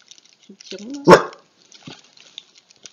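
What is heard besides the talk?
dog barking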